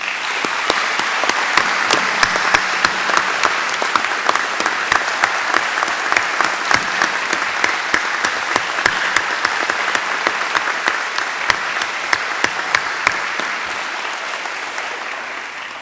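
A crowd at a police department promotion ceremony gives long, sustained applause, a steady, even wash of many hands clapping that stays loud and unbroken for about sixteen seconds.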